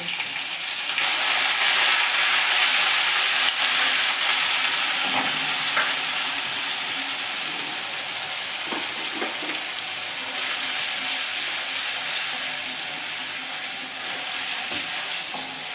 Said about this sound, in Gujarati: આ ડુંગળીને આપણે બ્રાઉન કલર થાય ત્યાં સુધી તેલની જોડે સાતડવા દઈશું